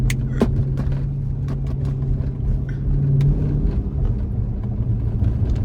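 A Dodge Charger widebody Scat Pack rumbling while driving, a deep steady engine drone heard from inside the car, with occasional swells and faint clicks over continuous road noise.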